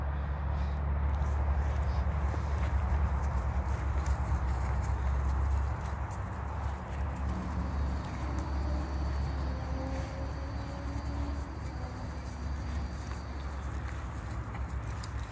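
A calm, gentle grey horse walks along with soft, steady hoof clip-clops over a continuous low rumble, with no talking.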